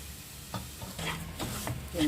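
Semolina roasting in ghee in a pan for carrot rava laddu, with soft sizzling and a few scraping stirs at a close, steady level, no talk heard.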